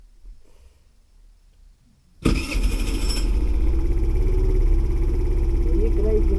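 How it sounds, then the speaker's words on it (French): A scooter engine cranks and catches after a quiet lead-in, then settles into a loud, steady idle close by. "Le scooter en fait il est un petit peu galère à démarrer"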